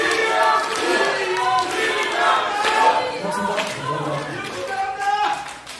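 Audience at a heated Korean political debate forum in Seoul cheers and shouts together in a loud, steady crowd roar, with scattered voices rising through it.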